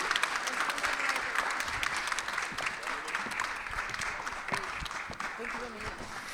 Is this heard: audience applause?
yes